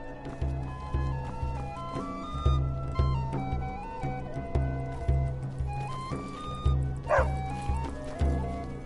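Dog barking repeatedly in Skyrim, loud yips and bow-wows over a rhythmic festival drumbeat and melodic music in a town setting.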